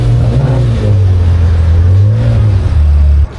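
Car engine revving loudly and close while drifting at a night car meet, with a sustained drone that rises and falls in pitch several times before cutting off sharply at the end.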